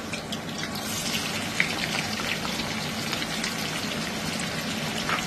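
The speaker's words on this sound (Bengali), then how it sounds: "তেলটা গরম হয়ে গেছে, এবার এর মধ্যে আমি পেঁয়াজগুলো ছেড়ে দিচ্ছি" Onions dropped into hot oil and frying for chicken korma, a steady bright sizzle and crackle that holds evenly throughout, close and fairly loud, with no voices.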